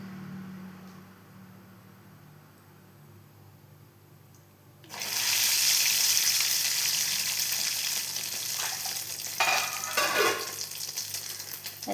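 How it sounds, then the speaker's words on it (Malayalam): Appam dropped into hot oil breaks into a sudden loud, steady sizzle after a quiet start, with the bubbling continuing strongly close by and a few clattering ladle scrapes toward the end. "അത് വറുത്ത് നമുക്ക് കോരിയെടുത്ത് വെക്കാം"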